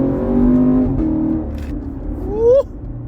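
A Chevrolet Camaro SS heard from inside pulls away with a low engine drone that rises in pitch toward the end before cutting off abruptly.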